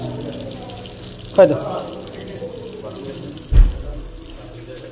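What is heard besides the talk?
water running from an automatic tap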